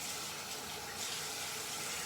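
Tap water runs steadily into a kitchen sink while houseplants, including a Florida Beauty, are rinsed, giving a soft, even hiss and splash, quiet and continuous with no talking.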